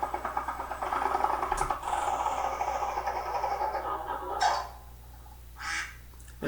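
A cartoonish duck sound from the Ballyland keyboarding video game for young children, a nasal honking quack of moderate loudness, followed by a couple of short chimes.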